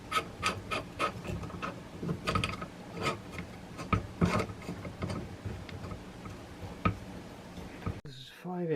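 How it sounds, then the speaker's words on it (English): A loaner power steering pulley puller tool is turned by hand on a car engine, giving ratcheting clicks, scrapes and metallic creaks in irregular bursts, with someone talking over part of it. "Now turn the driver clockwise until it's all cinched up."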